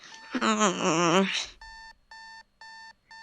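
An alarm clock in the Doki Doki video game beeps in four short, evenly spaced bursts, preceded by a drawn-out, groaning human voice.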